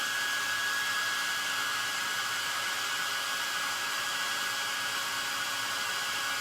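A hair dryer blows steadily at close range while drying a painted plaster craft figure, a loud, even whooshing hum with a faint whine that holds unchanged throughout, with no voices.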